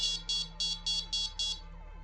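An inexpensive AliExpress fishing bite alarm emits six quick, evenly spaced high electronic beeps over a faint steady hum, sounding alone and fairly quiet.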